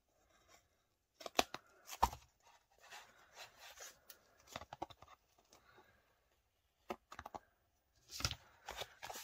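Scissors trimming the protruding edge of a handmade paper notebook, several short crisp snips and rubbing paper sounds in bursts, close and fairly quiet with no talking.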